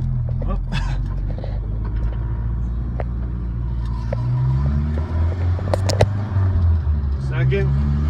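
A 1973 Toyota Hilux pickup drives along with a steady interior engine drone and road rumble, the pitch shifting as it slows and pulls away into a turn, while a person talks over it.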